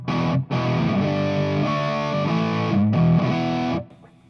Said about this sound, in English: On this particular tweak fuzz, you can get more of a distortion by simply taking the bass out before it's clipping.